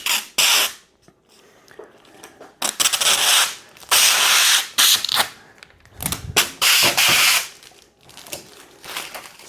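Backing paper is peeled off an arcade control panel overlay in a series of loud, crackling tearing strips, each burst lasting about half a second, separated by brief quiet gaps.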